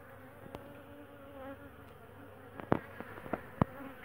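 Honey bees buzz steadily around wax cappings outdoors, a continuous droning hum with several sharp close clicks and taps near the end.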